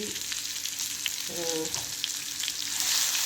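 Squid thoran ingredients with curry leaves and ginger frying and being stirred in a pan, a steady close sizzle with a brief scraping stir partway through.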